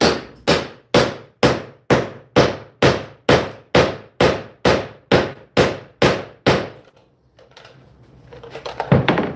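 Parts being hammered into lobster buoys: about fourteen sharp, evenly spaced, loud blows in steady rhythm, close by, then the hammering stops and only faint rustling remains.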